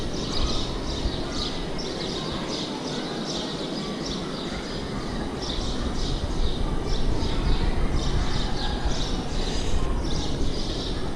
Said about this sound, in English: I think those birds that you can hear, if you can hear them, are sparrows